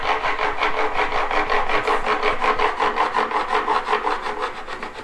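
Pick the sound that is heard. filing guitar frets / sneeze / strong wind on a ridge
filing guitar frets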